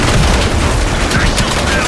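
Rapid, dense automatic gunfire and bursts in the Call of Duty Cold War video game, loud and continuous throughout with layered shots, under a busy battle mix with voices.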